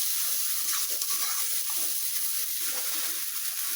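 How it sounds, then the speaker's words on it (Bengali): Chili powder, turmeric powder and garlic paste fry in hot oil, giving a steady, close sizzle with faint stirring scrapes throughout, no voices. "তো সব মশলা একবার আমি কষায় নিব।"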